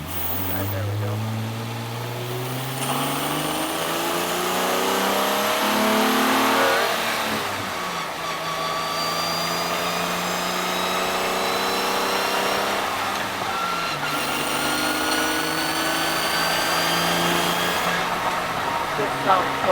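A V6 Honda Accord fitted with straight-cut gears accelerating, its engine pitch climbing repeatedly through the gears with a whine riding on top and wind noise, while a person talks.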